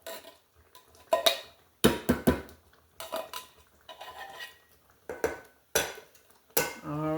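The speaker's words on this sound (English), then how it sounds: "Just dump it in cans of stuff." Canned ingredients are dumped into a cooking pot for chili, producing bursts of clattering metallic clanks and knocks at close range, with pauses of quiet between them.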